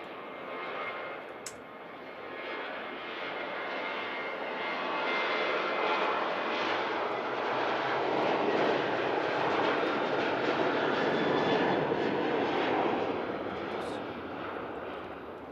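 A Ryanair Boeing 737 jet departs Manchester Airport, its engine roar rising from a distance, swelling to a sustained rumble and slowly fading over fifteen seconds, with no talking.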